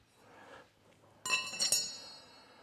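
A motorcycle sprocket coming off a Ducati Desert X wheel gives a few bright metallic clinks and rings in quick succession, close up, after a quiet moment in a workshop.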